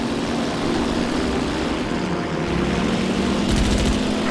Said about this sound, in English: Give it some throttle to rev her up. Once you get some speed, pull up to get airborne.